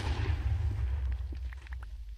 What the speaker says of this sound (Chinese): 当爆炸发生的时候